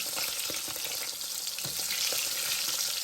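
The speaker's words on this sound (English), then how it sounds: "And this is how I'm doing deep frying because I don't have a deep fryer." Oil sizzles and crackles steadily as potatoes deep fry in a pot, with occasional soft clinks and bubbling bursts, close by and continuous.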